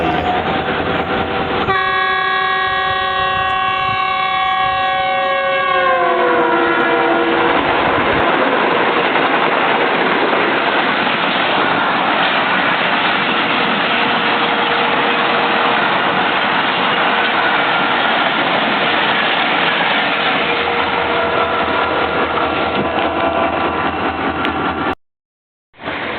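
Blue-and-white Millat Express passenger train led by locomotive AG30, passing straight through Jania station without stopping. A loud horn blast sounds early, then the steady rumble and clatter of the coaches rolls past up close for over twenty seconds.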